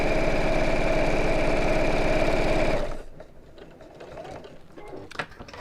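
A sewing machine runs steadily down the centre of a quilted piece for about three seconds, a loud even hum, then stops, followed by faint rustling and handling of fabric.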